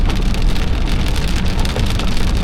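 Heavy rain pours steadily during a tornado storm in Texas, a dense, loud, unbroken hiss of drops drumming on surfaces close by, with no voices.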